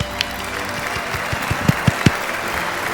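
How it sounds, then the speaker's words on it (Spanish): Audience applause at a Mexican stand-up comedy show, a steady wash of clapping from a crowd with a few heavier thumps standing out toward the end. "Aplausos, por favor"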